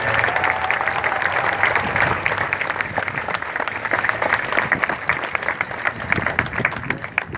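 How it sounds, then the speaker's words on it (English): A rally crowd at the Minnesota state capitol claps steadily and loudly, a thick wash of applause with a few scattered voices and cheers mixed in. "So let's give them a round of applause as well."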